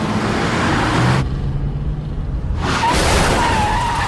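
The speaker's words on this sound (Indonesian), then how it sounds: "mereka berdua saling tumbur-menumbur mobil" Two cars skid and ram into each other in a kungfu fight scene, loud tire scraping and rumbling impacts followed by a brief muffled lull, then harsh skidding noise returns with a thin squeal.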